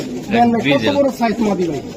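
A large Giribaz racing pigeon at a racing pigeon farm coos close by in soft, throaty, repeated rolling phrases for about two seconds.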